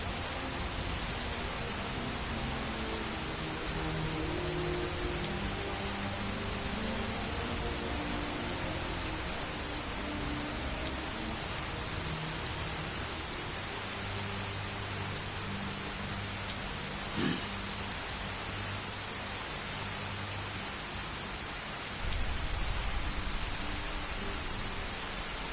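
Steady rain falls across a Skyrim landscape, a dense continuous hiss of drops with a faint low rumble beneath and no voices.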